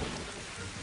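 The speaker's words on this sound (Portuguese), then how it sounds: "Chuva vai embora." Steady rain falling, a dense, even wash of noise with no voices.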